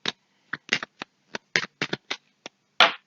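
Tarot cards shuffled by hand for a reading make about a dozen sharp, separate flicks and slaps. They come in an uneven rhythm, close and fairly loud, and the last is a fuller snap, with no talking.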